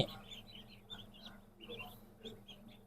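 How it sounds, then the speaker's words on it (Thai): Small high chirping peeps of newly hatched Ee Liang ducklings in an egg incubator repeat in scattered bursts over a steady low hum, fairly quiet and close. "เป็นเป็ดน้อย"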